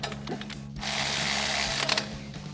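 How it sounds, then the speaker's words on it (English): A ratchet fitted with a 12mm socket tightens a brake line bracket bolt during a front strut spacer leveling kit install, giving a close, steady run of rapid clicking lasting about a second, with quieter handling noise around it. "We'll switch to a 12mm socket for our brake line bracket bolt."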